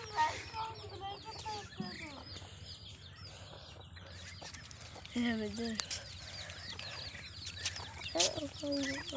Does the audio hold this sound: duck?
yes